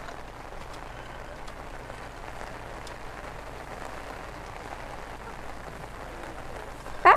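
Steady rain falls outdoors as a continuous, even hiss of drops through the whole stretch, fairly soft, with one brief louder knock at the very end.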